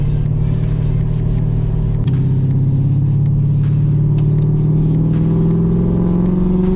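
A car drives along steadily with a loud, close mid-range engine drone whose pitch dips at a gear change into second and then climbs again as it pulls ahead.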